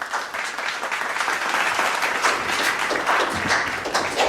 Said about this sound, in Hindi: तालियों से स्वागत करिए ज़ीशान साहिर का।